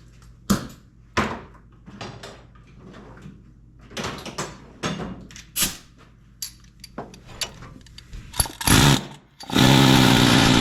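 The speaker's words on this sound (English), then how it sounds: "Put the bolt back in and I'm going to use an air hammer." An air hammer working on an engine clutch bolt, with a series of short, sharp bursts and rattling hits separated by pauses, ending in a longer continuous loud blast; no talk.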